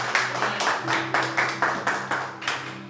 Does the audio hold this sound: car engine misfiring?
no